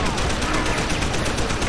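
A gun in Deus Ex: Human Revolution fires in a rapid, even stream of shots, loud and close, under a dense wash of noise for the whole short burst.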